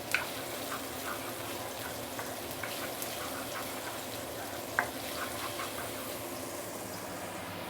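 Garlic and shallot fry in a pan with a quiet, even sizzle that runs throughout, marked by a couple of faint clicks.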